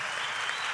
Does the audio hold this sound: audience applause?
yes